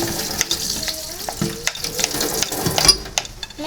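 A burger patty frying in a pan with onions, a steady sizzle and scraping stir rising and falling throughout, up close with faint watery splashes and no talk.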